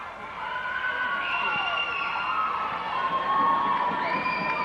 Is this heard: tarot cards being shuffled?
no